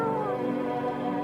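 Cat meowing in the video game No, I'm Not a Human, a steady tonal cry lasting about a second over a soft background hum.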